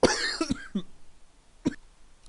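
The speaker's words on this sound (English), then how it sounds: "Last couple episodes I've been coughing." A few short, sharp coughs close to the microphone, spaced irregularly with brief pauses between them.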